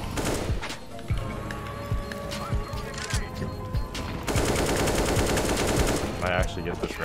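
Video game gunfire crackles in dense, rapid bursts across the whole stretch, loud and close, with sharp repeated shots piling over a busy background.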